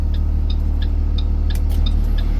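A school bus right turn signal ticks in a steady, even rhythm of about eight light clicks over a loud, constant idling engine rumble.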